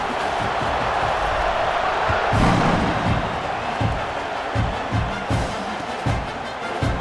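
A stadium crowd cheers at a college football game in EA Sports College Football 26, a broad sustained roar with swelling surges and scattered thumps, heard without commentary over it.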